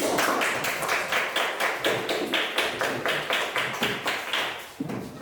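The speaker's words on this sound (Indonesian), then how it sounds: "Tepuk tangan." A classroom group claps together in a steady rhythmic pattern after a group discussion presentation, sharp, even beats repeating about three times per second for several seconds, close and fairly loud with no talking.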